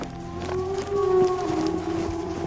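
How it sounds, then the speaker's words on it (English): A tornado siren in the video game Tiny Bunny, a long wavering mournful howl that rises and holds, fairly loud and eerie, with faint low rumbling beneath and no talk. "That sound like the tornado siren."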